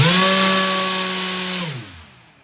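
An RC motor spins a 9-inch 3D-printed three-blade folding propeller in a loud, high, steady whine, then the pitch drops sharply as it spins down and fades out.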